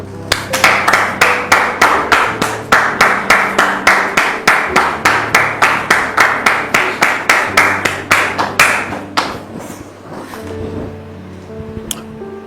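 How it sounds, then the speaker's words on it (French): A studio audience claps in unison with a steady, quick beat of about three claps per second, loud and close. The claps keep time for several seconds, then trail off into a few scattered claps and quiet. "nous allons donc recevoir Dame Lydie sous vos applaudissements,"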